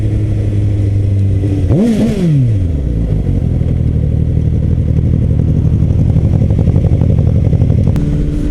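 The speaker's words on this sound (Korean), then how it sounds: "그냥 이 4기통 엔진 소리 때문인지 몰라도 와 아, 소리가 굉장히 크네요" A Suzuki GSX-S750 four-cylinder motorcycle with a slip-on exhaust is ridden nearby, its engine loud and steady with a quick rev rising and falling early on, then a sustained droning cruise.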